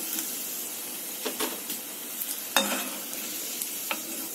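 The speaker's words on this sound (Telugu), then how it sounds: "మనం సెకండ్ టైం వీటిని డీప్ ఫ్రై చేసుకుందాము." Veg Manchurian balls deep frying a second time in hot oil, a soft continuous sizzle with a few faint clinks of a utensil nearby.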